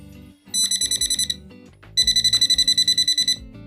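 A Nokta metal detector pinpointer beeps close by in two bursts of rapid, high-pitched pulses separated by a short pause, with faint clatter underneath.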